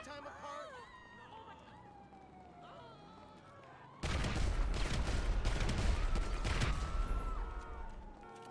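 Wailing police car sirens in GTA V rise and fall, then loud rapid gunfire and chaotic noise burst in, with speech mixed underneath.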